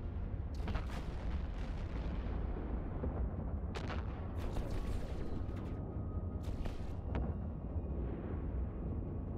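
Spaceship weapons fire in EVE Online as repeated booming volleys over a constant low rumble, with sharp bursts near 0.5, 4 and 6.5 seconds.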